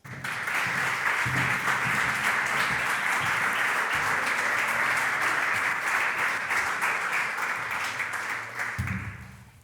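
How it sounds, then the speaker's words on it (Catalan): A large crowd at a photojournalism award ceremony applauds steadily and loudly for several seconds, a dense wash of clapping that fades slightly at the end. "Un aplaudiment per Magda Gregori i Jordi Borràs."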